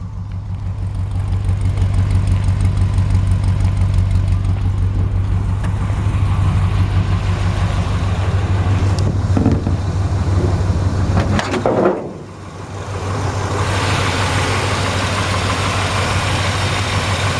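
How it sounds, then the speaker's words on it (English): A 1957 Chevrolet 3100 pickup truck engine with stock exhaust idles with a steady low rumble, smooth and even, briefly dipping before settling back into its constant hum. "The engine runs really good. Stock exhaust, very smooth sounding,"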